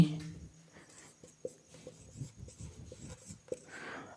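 Chalk or marker writes a sentence on a classroom board, with short scratchy strokes and taps in an irregular rhythm, fairly quiet and close with no talking.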